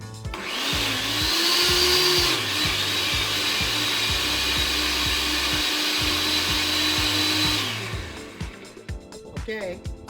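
A blender whirs steadily through oregano and basil from a home garden, its motor whine holding a loud, even pitch for about seven seconds before spinning down and stopping.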